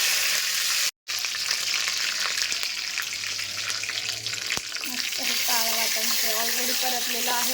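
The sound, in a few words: cumin, mustard seeds and curry leaves sizzling in hot oil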